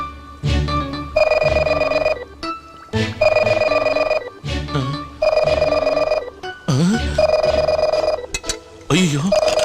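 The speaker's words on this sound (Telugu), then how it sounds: "లోపల నుంచి రింగ్ అవుతుంది" A telephone rings inside a house, loud repeated ring bursts separated by short gaps, with voices and other scene sounds mixed in between.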